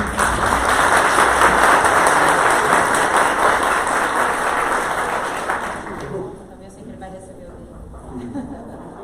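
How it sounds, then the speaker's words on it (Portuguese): An audience at a talk on animal protection and defense breaks into sustained applause, loud and dense for about six seconds. It then fades to scattered claps and a murmur of voices. "Salva de palmas, por favor."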